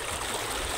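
River water streaming steadily over rocks at the Sibalom River, a continuous broadband rush heard close and alone with no talk.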